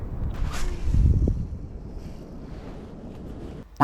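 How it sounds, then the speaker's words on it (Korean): Wind starting to blow on a lake during winter bass fishing from a boat, a low buffeting rumble against the microphone that swells briefly, then settles into a steady hush. "뭔가 슬슬 바람이 불기 시작하는구만."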